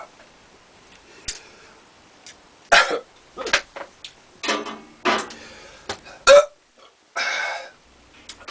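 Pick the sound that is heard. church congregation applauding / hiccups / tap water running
hiccups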